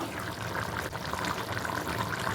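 Water pours steadily into a cooking pan holding tomatoes for a milk curry, a continuous close splashing fill with no pauses and no voices.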